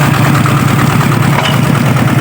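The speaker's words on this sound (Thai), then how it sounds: "รถไถเดินตามครับผม" A walk-behind tractor's small engine runs steadily with a low, rhythmic chugging pulse, close and loud throughout, no voices.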